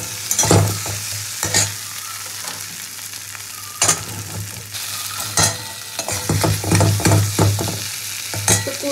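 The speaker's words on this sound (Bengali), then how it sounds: "কচুটা ফোড়নের সঙ্গে নাড়াচাড়া করে" Taro stirs in hot oil tempered with spices, a spoon scraping the pan in bursts over a continuous sizzle, with several sharp strokes clustered toward the end.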